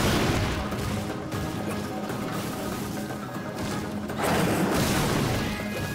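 Bombs exploding in Darksiders 2 gameplay: loud, dense crashing blasts run almost continuously, with a heavier burst near the end.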